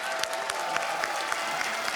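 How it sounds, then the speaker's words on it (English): Home crowd at a CS:GO esports quarterfinal in Katowice clapping and cheering, a dense continuous roar of applause with sharp individual claps, loud and sustained throughout. "Listen to the crowd for just a second."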